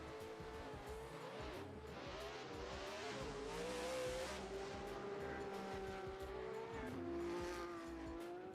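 Drift cars run warm-up laps at Tokachi International Speedway in Japan, engines revving and droning steadily with tire squeal, heard from a distance at a continuous, fairly faint level.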